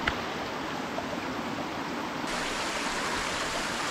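Steady rushing of a mountain stream in Austria fills the whole stretch as water is fetched from it, a constant broadband wash with no talk, slightly fuller in the second half.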